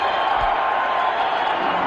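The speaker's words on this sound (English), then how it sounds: "And suddenly the crowd come to life." Cricket crowd in a stadium during a 2002 TVS Cup one-day international, roaring after a catch, a broad, continuous distant cheer holding steady throughout.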